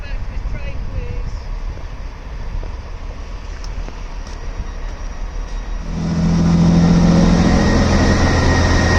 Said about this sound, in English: the first half that goes to Aberystwyth has been detached and the train has departed